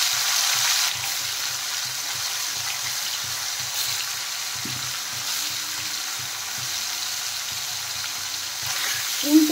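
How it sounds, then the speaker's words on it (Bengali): Pieces of paneer sizzle steadily in hot mustard oil in a wok, a close, continuous crackling hiss with occasional stirring scrapes. "পনিরগুলো এখন তেলের মধ্যে দিয়ে দিলাম"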